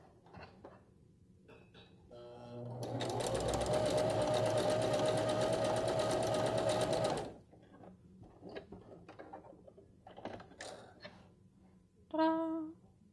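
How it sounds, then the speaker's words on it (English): A home sewing machine stitches a zigzag seam on a tank top romper: one steady, dense mechanical whir that runs for about four seconds and then stops. Quieter handling noises come before and after it, and a short bright clatter sounds near the end. "You're going to be doing a zigzag here if you don't have a stretch stitch."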